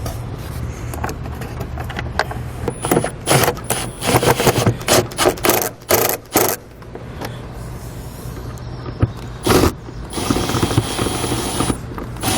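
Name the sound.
securing screws on Chevrolet Colorado engine airbox lid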